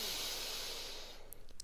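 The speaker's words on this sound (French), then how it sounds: "Inspirez par les deux narines à nouveau." A long, steady breath drawn in through both nostrils, a close airy hiss lasting over a second, then tapering off into quiet with a few faint clicks.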